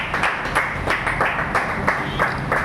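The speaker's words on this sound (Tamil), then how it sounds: "சரவணன் அவர்களுக்கு நம்ம அனைவரும் பலத்த கைத்தட்டலோடு நன்றி தெரிவித்துக் கொள்கிறோம்" Audience applause for an honoree named Saravanan at a short-film event, a steady crowd of clapping with brisk overlapping hand claps throughout, moderately loud and continuous with no voices on top.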